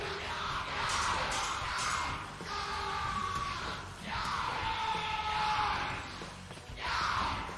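Enemies in Prince of Persia: Warrior Within let out repeated loud, drawn-out yells and bellows in several bursts, close and forceful over game noise.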